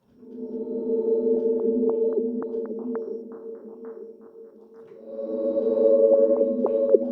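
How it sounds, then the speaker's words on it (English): A Zoom MS-70CDR effects pedal on its Voice Rev program gives breathy, sustained choir-like synthetic voices that swell and fade, with bright pitched accents sliding on top, then return louder after a brief dip. "Sounds like voices. Sounds like a synthesized voice choir."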